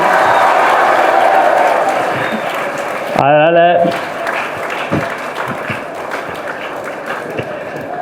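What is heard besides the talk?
audience applause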